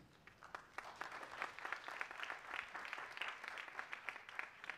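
Steady applause from a large audience at the Festival of Nations, a dense wash of clapping holding for several seconds without any talking.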